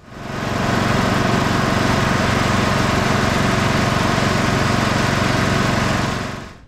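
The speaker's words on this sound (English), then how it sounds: "I'll crank it up." A free Cub Cadet lawn tractor engine is cranked and runs steadily, a loud, close, continuous mid-pitched drone that holds evenly for several seconds before cutting off.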